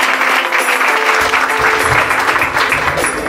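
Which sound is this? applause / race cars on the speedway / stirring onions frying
applause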